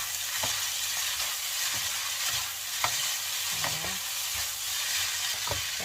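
Thai-style fried rice sizzles steadily in a hot pan, a constant loud hiss broken by scattered scrapes and knocks of the spatula as it is stirred, with no voices.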